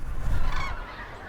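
Migrating cranes call loudly while landing at a reservoir in France, a short burst of nasal honking that fades quickly.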